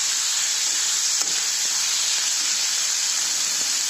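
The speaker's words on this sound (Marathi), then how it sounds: "हे जास्त हाय फ्लेमवर मी कांदा भाजून घ्यायचा" Onion frying over a high gas flame sizzles with a steady, loud, bright hiss that fills the whole stretch, with a couple of faint utensil taps and no talking.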